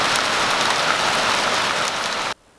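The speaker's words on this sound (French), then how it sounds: "Les grêlons. Alors j'espère que ça va pas trop casser." Hailstones and rain pelt down steadily on a vegetable garden, a dense, loud hiss of drops that runs without a break and then cuts off abruptly near the end.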